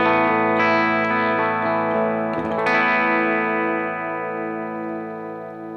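Electric guitar played through a Matchstick Channel 1 amp and matching cab with a 160 ribbon mic, dry tone: sustained chords ring out, a brief strummed attack midway, then a long, slowly fading decay, alone.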